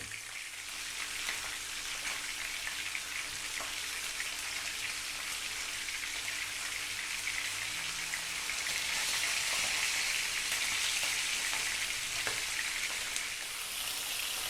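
Safi fish frying in a pan for a Bahraini fried fish dish, giving a steady, even sizzle and crackle of hot oil that continues unbroken with no voices.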